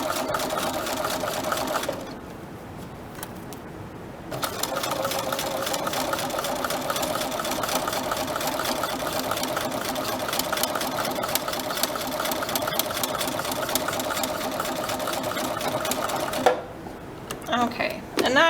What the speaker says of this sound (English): I'm just sewing next to my teeth. Okay, sewing next to the teeth.